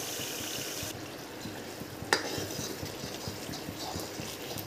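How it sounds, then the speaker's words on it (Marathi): Masala frying with salt in a pan, a soft steady sizzle with faint stirring scrapes and one sharp clink of a utensil partway through, quiet and close. "चवीनुसार मीठ, एक 2 मिनिटं फ्राय करायचं।"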